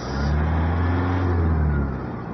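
A Toyota Hilux engine runs steadily and revs with a low, sustained drone, close and fairly loud, rising slightly before settling, with no voices.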